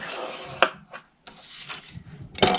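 A scoring tool draws across cardstock on a scoring board for a gift box, giving short raspy rubbing strokes with sharp taps between them, close and alone.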